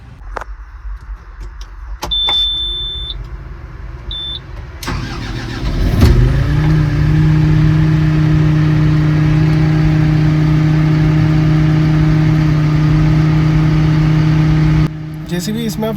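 A JCB 433-5 wheeled loader's engine starts after a few warning beeps and clicks, catches with a rising whir, then settles into a steady, loud diesel idle, while someone talks in Hindi nearby.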